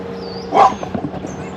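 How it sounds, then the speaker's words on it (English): A single nearby dog barks once sharply, followed by a few softer yips over a faint background hum. "Stop barking."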